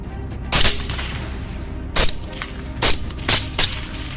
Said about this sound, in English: every few minutes, gunshots rang out, signaling that more wild boars had been taken down